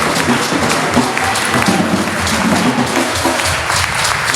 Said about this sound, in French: est-ce que tu peux encore acclamer le Seigneur?